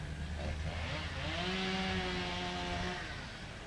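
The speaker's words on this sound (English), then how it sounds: "I hear a chainsaw. Maybe they're cutting some limbs." A distant chainsaw cutting tree limbs near a road whines and revs in a steady drone, rising briefly in pitch mid-way, set against a continuous outdoor background hum.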